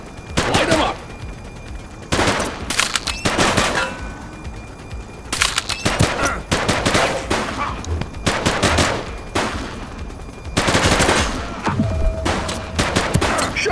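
Police gunfire in the video game The Precinct: repeated rapid bursts of automatic fire in loud, close volleys separated by brief pauses, with a faint voice underneath.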